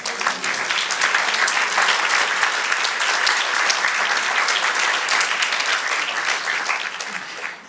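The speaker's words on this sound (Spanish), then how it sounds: "Denle un aplauso al Señor." Church congregation applauding the Lord after a Spanish-language sermon passage, dense sustained clapping filling the room for several seconds before fading near the end.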